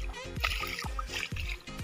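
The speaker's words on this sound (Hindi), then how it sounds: "अभी यहाँ पानी पानी से जाना पड़ रहा है" Bare feet slosh and splash through shallow water on a muddy path, a few wet steps in quick succession close by, with a voice heard speaking briefly.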